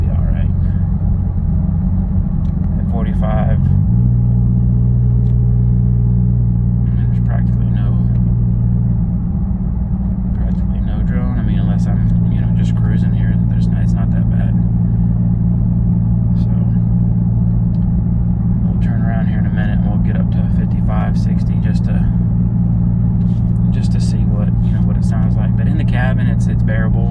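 A 2012 Ford Fusion with a 2.5L engine and a Magnaflow resonator in place of a muffler drones steadily from inside the cabin while driving, a low, constant exhaust rumble with slight pitch shifts. Someone talks over it the whole time.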